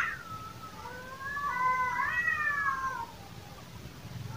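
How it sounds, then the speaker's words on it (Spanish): A cat screaming at night, one long drawn-out wailing yowl that rises and wavers for about two seconds before tapering off, fairly close and alone over a quiet background. "escuchar el grito de un gato, eso sí da miedo"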